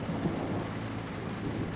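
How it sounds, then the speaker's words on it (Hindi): Heavy rain falls steadily with a low thunder rumble beneath it during a nighttime storm, a dense continuous roar with no one speaking. "बारिश हो रही है।"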